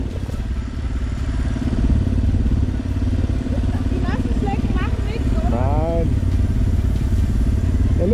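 Yamaha Tenere 700 motorcycle engine in first gear on a gravel trail, revving hard and climbing in pitch with a loud, close, continuous drone while someone speaks over it.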